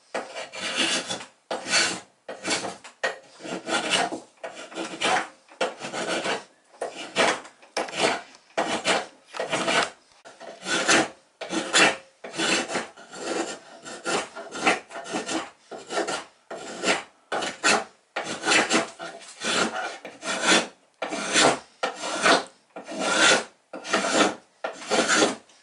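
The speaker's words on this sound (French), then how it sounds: "Plus c'est rigide, plus ça sera facile de passer le vastringue." A spokeshave pares the wooden hull of a small canoe in a workshop, making long rasping strokes, dozens in steady rhythm, close and crisp, each separated by brief pauses, with no voices.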